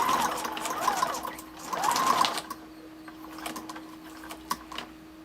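Sewing machine stitching a paper towel ribbon, running in a few short whirring bursts that rise and stop, fairly close and quiet, with light handling clicks between runs.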